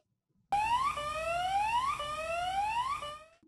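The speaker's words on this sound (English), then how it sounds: "should a leak occur, a distinct alarm will sound" Chemical leak alarm at a water treatment facility, a loud electronic rising whoop that sweeps upward and repeats about three times in steady cycles, then cuts off.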